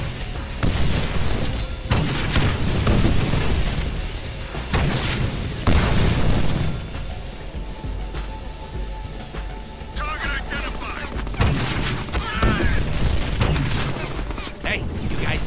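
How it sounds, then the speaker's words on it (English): Rocket launcher explosions in a Deadpool video game, a string of heavy booms and blasts over a dense, loud battle din, with voices talking in between. "Nothing like high-yield explosives."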